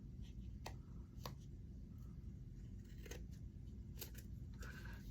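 Scissors snip through paper while a journal page is trimmed, a handful of short, sharp cuts spaced irregularly, close and fairly quiet, with no talking.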